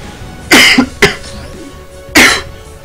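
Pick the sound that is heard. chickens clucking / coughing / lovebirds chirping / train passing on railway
coughing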